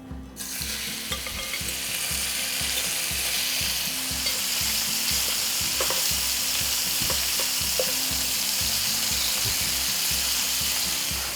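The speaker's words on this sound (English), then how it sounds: "In the same pan, I'm going to be frying my chicken." Steady loud sizzling of chicken frying in a hot pan for jambalaya, with occasional light clinks and scrapes, continuous throughout with no talking.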